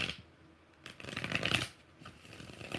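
Tarot cards riffle and slap together in a few quick shuffling bursts close to the microphone, separated by brief quieter pauses.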